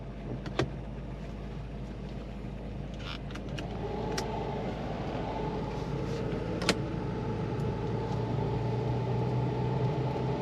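A 1973 Mercedes-Benz 450 SE drives with its engine running and the windows open, a steady interior hum that rises as it pulls away, with a few light clicks and rattles and no talking.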